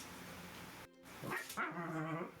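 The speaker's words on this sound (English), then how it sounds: "His dogs are really active tonight." Pet dogs bark indoors at night, a short burst of yelping, high-pitched barks that starts about a second in and carries on over a low steady room hum.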